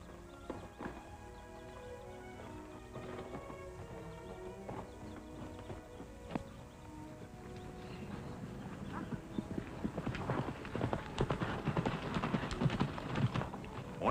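Horse hooves clip-clop at a steady walking rhythm. The hoofbeats grow louder and busier toward the end, sounding under music and background voices.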